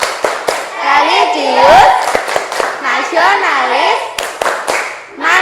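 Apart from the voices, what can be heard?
rhythmic group clapping chant (tepuk PPK)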